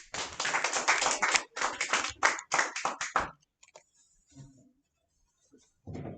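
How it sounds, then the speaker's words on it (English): Audience clapping at a live event: a loud burst of close hand claps in quick clusters for about three seconds, then near silence with faint stray sounds before clapping resumes briefly at the end. "Let's clap it up one more time for Brother Star."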